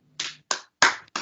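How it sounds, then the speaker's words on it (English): Students on a video call unmute and clap for a guest speaker at the end of a session, four separate sharp claps spaced out over about a second, close and dry with silence between them. "unmute yourself and clap for Shelley"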